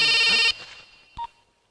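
A telephone rings in a short electronic burst that cuts off, followed by a brief single tone, close and clear with no talking.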